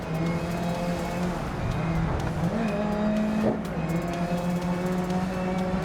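A race car engine in Grid Legends drones steadily at high revs, its pitch shifting with gear changes and a brief rise and dip while racing, loud and close throughout.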